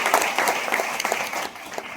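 Audience applause at a night church gathering, the Vishwa Shanti Mahotsav 2025 at Pukali church: dense, sustained clapping from a crowd that continues steadily, then thins and softens slightly toward the end, with no talking over it.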